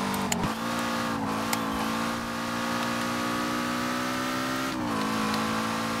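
Peugeot 205 T16 rally car engine in Forza Horizon 4, droning loud and steady at high revs in sixth gear, with a brief dip and gear shift partway through and no talk.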